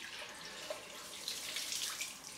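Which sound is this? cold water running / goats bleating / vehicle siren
cold water running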